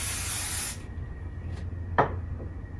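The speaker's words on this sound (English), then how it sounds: "I'm gonna spray it with the Kenra Perfect Medium Spray while they set and cool." A close Kenra Perfect Medium Spray hairspray aerosol hisses loudly for under a second and stops abruptly, followed by a couple of brief, softer rustles.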